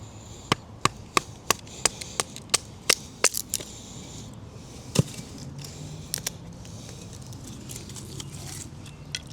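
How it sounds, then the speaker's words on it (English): A GiantMouse GMF2 Scout bushcraft knife splits wood into small pieces, giving sharp, close wooden knocks: a quick regular run of about a dozen strikes, then a few sparser hits over a faint background. "Really easy way to split up wood."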